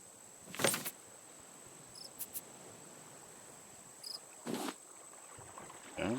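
Bruce the shark approaching the raft in the survival game Raft: three sharp, loud whooshing splash bursts, spaced irregularly, over a quiet ambient hiss and a steady high tone, with no voices.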